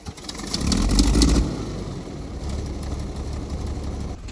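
A tractor engine starting and running, rising to a louder rumble in the first second and a half, then settling into a steady, close idle.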